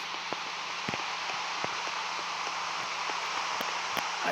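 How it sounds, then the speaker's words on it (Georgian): Steady rain patters outdoors in a broad, even wash, with scattered sharper drops ticking through it; no talking is heard. "ვაიმე რა წვიმაში"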